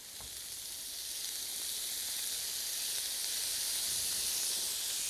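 Soy sauce hits stir-fried vegetables and meat in a hot pan, producing a broad steady hiss that swells slightly and holds, close and even, with no voices.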